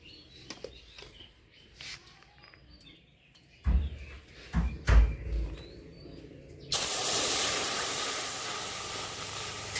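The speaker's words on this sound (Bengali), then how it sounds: "এখন আমি দুধ জাল দিয়ে ক্ষীর করে নিচ্ছি" Milk boiling in a pot to make kheer for a Bengali pitha dessert: a few scattered clicks and soft knocks, then a loud, steady bubbling hiss rising suddenly and filling the rest of the clip, with no talking.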